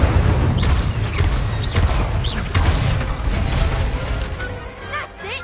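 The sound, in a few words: spell casting effects (Accio, Incendio) in Hogwarts Legacy video game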